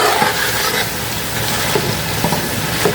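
Mutton and spices frying in a pan for pulao, a steady loud sizzle close up that fills the whole stretch with only slight crackling variations.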